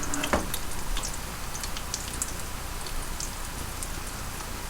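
Cod cakes made with black-eyed peas fry in a pan at medium heat, giving a steady close sizzle with scattered pops and crackles and a brief clatter near the start.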